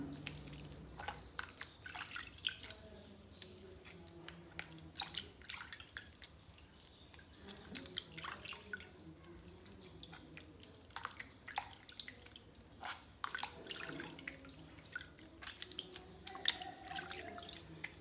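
Water drips and splashes steadily as dough is washed to rinse out the bran, a soft irregular patter of small drops and trickles, fairly quiet and close, with no talking.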